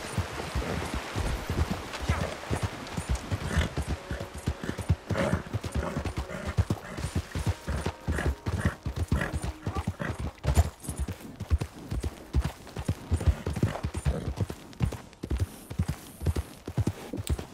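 Horses plod along in Red Dead Redemption 2, a steady, dense clip-clop of hooves close by throughout, with an occasional brief whinny and no one talking.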